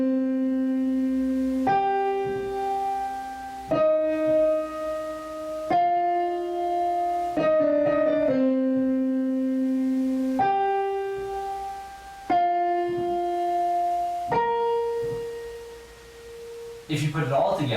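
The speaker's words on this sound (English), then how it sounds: "On your right, if you play this with octaves" Piano plays the Shin Godzilla theme with the melody doubled in octaves: a slow sequence of sustained, ringing notes, each held about two seconds, alone and clearly up close.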